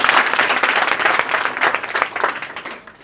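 Dense, steady clapping from an audience at a coaching class in Bihar, rising and falling slightly for about three seconds before tapering off at the end.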